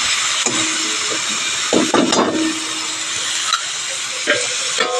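Potatoes steam and sizzle in a pan with a soft, steady frying hiss close by, broken by several scraping stirs of a spoon.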